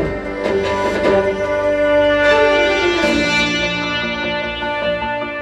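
Demo music plays through the Bowers & Wilkins Diamond surround sound system inside a BMW X7 40i, full and rich with sustained harmonic tones and swelling passages at a steady, fairly loud level, with no voices.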